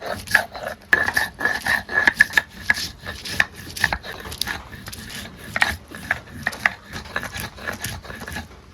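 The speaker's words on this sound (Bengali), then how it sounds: "মাংসের কাবাব বানানোর লাগিয়ে এলাচ, দারচিনি, লবঙ্গ, গোলমরিচ পেস্ট এই বাটতে নিম" Cardamom, cinnamon, cloves and black pepper are ground into a paste for meat kebabs, giving close, irregular rubbing and scraping strokes with sharp gritty clicks that repeat steadily throughout.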